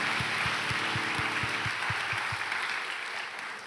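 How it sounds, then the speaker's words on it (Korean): Church congregation applauding during a Sunday morning service, a dense, loud wash of clapping that holds steady and then slowly thins out toward the end. "우리 그렇게 하실 하나님께 감사의 박수 올려드립시다"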